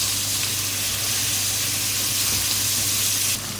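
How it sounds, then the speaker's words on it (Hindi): Onions frying in oil in a pan for a chicken khara masala, a steady loud sizzle and hiss that holds constant throughout with no talking. "प्याज को इतना फ्राई करना है कि सॉफ्ट हो जाए"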